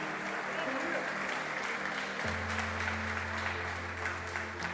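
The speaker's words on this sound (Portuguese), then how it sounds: "Você pode aplaudir a Ele nessa manhã?" A church congregation applauding during a morning sermon, a continuous wash of clapping with a sustained low musical tone underneath that shifts partway through.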